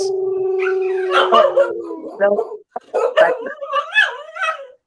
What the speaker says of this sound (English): did somebody bark?